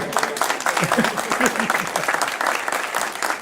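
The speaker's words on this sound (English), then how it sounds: "Have everybody clap for you" An audience applauds for the son of Missouri's next speaker at a bill signing, a dense burst of clapping with voices and cheers mixed in, fairly loud and continuous.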